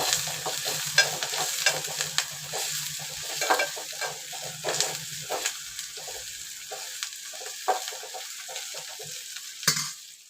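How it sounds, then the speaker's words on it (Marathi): Onion and curry leaves fry in hot tempering oil for Konkan-style cabbage sabzi, a close sizzle broken by repeated stirring scrapes against the pan, with no one speaking. "कांदा आणि कढीपत्ता सगळं एकत्र टाकायचं आणि फोडणी चांगली भाजून द्यायची"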